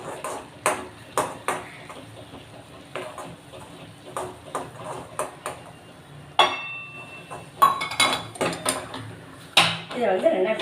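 A metal spoon stirs thick flour batter for uppu adai in a metal pot, giving repeated clinks and scraping knocks against the sides in an uneven rhythm, close and fairly loud.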